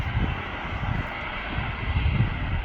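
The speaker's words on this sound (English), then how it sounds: "EasyJet A320." Engines of an EasyJet Airbus A320 at Manchester Airport give a steady, fairly loud roar that holds throughout with slight swells, and no voices are heard.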